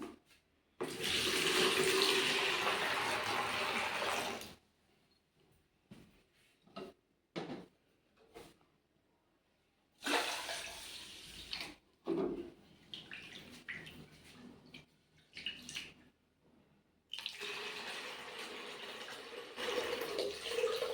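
Tap water runs into a metal water pot in a village home in three separate bursts. Each burst is a loud splashing rush, and quiet gaps with faint clatter and handling noises fall between them.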